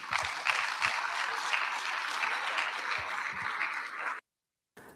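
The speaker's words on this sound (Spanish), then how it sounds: "Fuerte el aplauso para cerrar este encuentro, por favor." Conference audience gives a strong closing round of applause, full and continuous clapping across the room that stops abruptly with a brief cut of silence.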